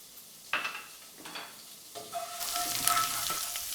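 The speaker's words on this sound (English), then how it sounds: "So that goes in and just allow it to sweat." Finely shredded ginger sweats in a pot as the base for a Moroccan mutton tagine. A couple of spoon clinks and scrapes come first, then a close sizzle swells and keeps rising.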